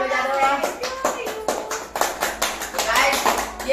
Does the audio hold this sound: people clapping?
yes